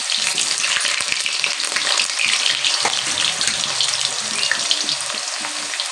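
Potatoes frying in hot oil for a Bengali mutton curry, a loud, continuous crackling sizzle close up, with occasional stirring scrapes and pops throughout and no voices.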